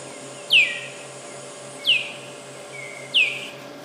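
Three short, bright chirps from a recording of a small bird singing, spaced evenly apart, each a quick descending whistle, over a faint steady hum.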